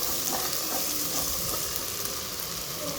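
Ginger garlic paste frying in a pan for a chicken dish, a dense, continuous sizzle and crackle with faint stirring scrapes, close and steady with no talk.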